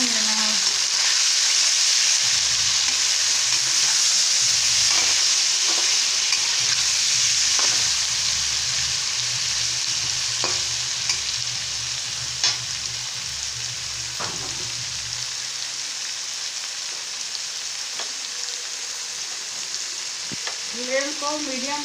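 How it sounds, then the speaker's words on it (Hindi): Matar paneer masala roasting in oil in a pan over a medium flame: a steady, loud broadband sizzle runs throughout, broken by occasional sharp scrapes and knocks of a spoon stirring, with a low rumble underneath. "हल्का सा सुनहरा होने तक भूनना है।"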